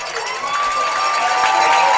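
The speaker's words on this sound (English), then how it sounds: "Fans are cheering. Everyone's loud." Fans at a high school football game in Tennessee cheer loudly as a crowd, a continuous roar of shouting voices rising slightly over two seconds.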